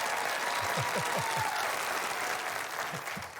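A crowd at a high school Brain Game quiz match claps and cheers steadily as a substitute player comes in, with a low voice speaking briefly over the applause.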